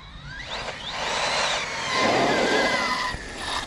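An Arrma Fireteam RC car's electric motor at quarter throttle, a whining buzz that rises and falls in pitch as the car passes, fairly close and heard alone.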